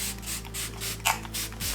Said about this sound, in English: I'm also just going to add some Smashbox setting spray.